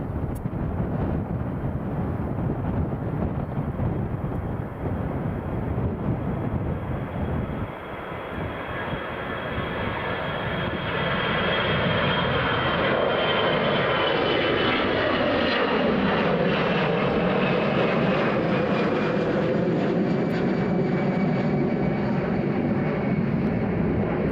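Airliner jet engines roaring as a plane departs an airport, with an American Airlines A321neo among the traffic, loud and sustained for over twenty seconds with a whooshing tone that shifts as it passes, no talk.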